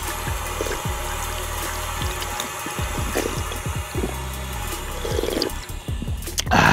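Water runs steadily from an outdoor drinking fountain in an autumn garden in Oregon, a continuous splashing flow with faint scattered background sounds over it.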